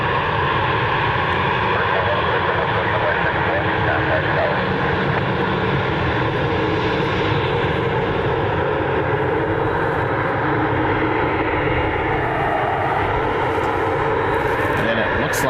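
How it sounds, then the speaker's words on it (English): A JetBlue Embraer E190 jet airliner taxis for departure at a Cleveland airport, a steady broadband engine roar holding throughout with a slight pitch dip near the end, while a voice talks over it. "As our JetBlue E190 taxis over for departure."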